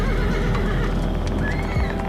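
Horses neighing loudly over a steady, dense clatter of hooves, close and continuous for a couple of seconds, with no talking.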